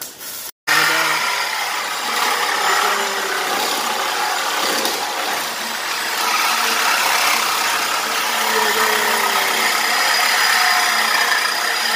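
A BMW E36 with its muffler removed runs nearby, giving a steady, raspy engine drone after a brief dropout near the start, holding at a moderate level for the rest of the clip.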